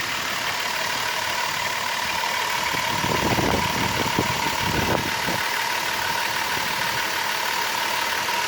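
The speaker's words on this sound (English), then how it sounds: "Of course, I just started up the car" A car engine idles steadily just after start-up, a continuous even hum with a faint irregular knock in the middle and no talking.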